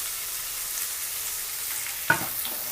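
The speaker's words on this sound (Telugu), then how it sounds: "ఒక నిమిషం ఇవి బాగా వేగేదాకా కలిపెట్టుకోవాలి" Spring onions and capsicum stir-frying in a pan for cabbage Manchurian give off a steady, soft sizzling hiss, broken by one sharp utensil clink near the end.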